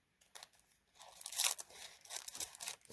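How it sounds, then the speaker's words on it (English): Purple fine shimmer gems in a plastic package being cut open along the side, giving short crinkly snips and tearing rustles that build to a brief louder burst midway, close and quiet with no talking. "cut the side, because I haven't opened these yet"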